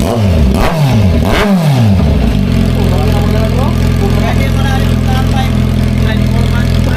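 A Kawasaki Z900 motorcycle with its airbox removed and a changed exhaust pipe blips its throttle in two or three sharp revs, then settles into a loud, steady, throbbing idle.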